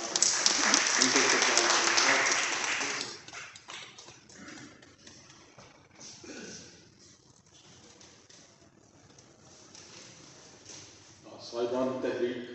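Loud applause from an audience at a book launch ceremony, a dense burst of clapping for about three seconds, then fading into murmuring and talk before another short swell near the end.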